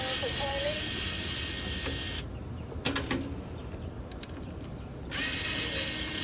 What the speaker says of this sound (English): I'm gonna remove a few screws.